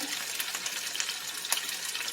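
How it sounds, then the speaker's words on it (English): Barbecue sauce is poured over chicken in a kitchen, making a soft, continuous liquid splash and trickle for a couple of seconds, with a few faint taps and no talk. "We need to add our barbecue sauce to this chicken"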